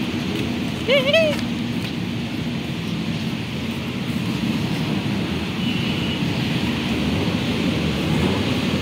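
Rain falls on a street in Pandacan, Manila, heard as a steady, dense hiss throughout, with a brief tonal sound near the start.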